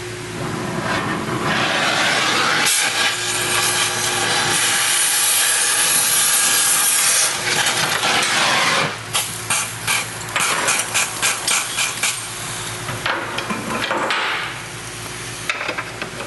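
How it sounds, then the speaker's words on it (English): A metal control arm bushing on a Subaru is cut with a power tool, a loud harsh continuous grinding and screeching for several seconds, followed by shorter intermittent bursts of cutting. "I'm gonna reach over there and nick that other half of that metal bushing off"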